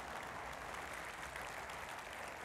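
Crowd applauding at the EVE Fanfest 2013 convention, a continuous even wash of clapping heard from a distance, faint and steady throughout.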